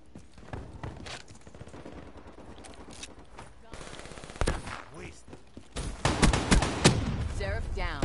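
Minigun fire in the video game Black Ops 3, with rapid bursts of automatic shots that build toward the end, heard alongside other game sounds and faint speech.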